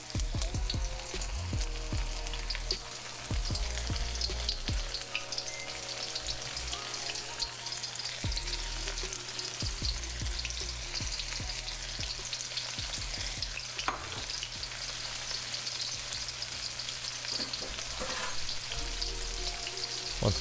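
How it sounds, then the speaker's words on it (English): Baby corn frying in about a quarter inch of vegetable oil in a wok, a continuous close sizzle with scattered crackles and occasional clinks of stirring, no talking. "And let that continue to fry."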